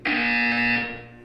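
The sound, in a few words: buzzer in Portal 2 video game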